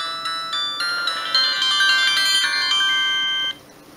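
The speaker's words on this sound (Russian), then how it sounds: "Собственно, такая вот мелодия от Samsung, включение" A Samsung X100 mobile phone plays its polyphonic power-on melody, a bright, clear sequence of stepped synthesized tones rising and sustaining for about three seconds before cutting off, heard close with no talk.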